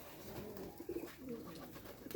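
Pigeons coo softly inside a loft, with low throaty burbles repeating here and there over a steady background hum and no talking.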